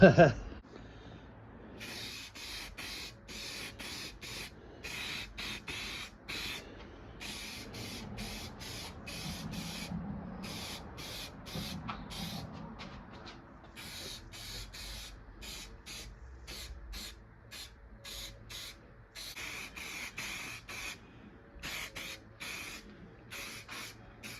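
Aerosol spray paint, a silver coat going onto a Yamaha Virago 250 motorcycle part, hissing in repeated short and long bursts with brief gaps between passes, close and fairly quiet.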